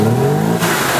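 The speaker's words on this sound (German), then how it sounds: "So, kann man jetzt mal Gas geben?" Engine of a VW Golf IV revving as the accelerator is pressed, loud and close, a steady mid-pitched drone that rises briefly then holds, with no talk over it.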